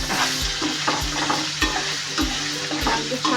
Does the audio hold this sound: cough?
no